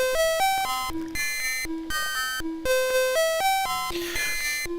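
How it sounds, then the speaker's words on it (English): A simple chiptune title screen melody from Manic Miner on the Commodore 64, with clean, beeping square-wave notes, slightly out of tune, in a looping, bouncy pattern, loud and clear with no voices. "this tune on the title page, well, I say tune, it is barely in tune."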